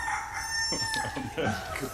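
A rooster crows in a French-language morning television show, the call sounding moderately loud and drawn out over a couple of seconds with other background sounds.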